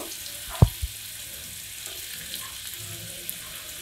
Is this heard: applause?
no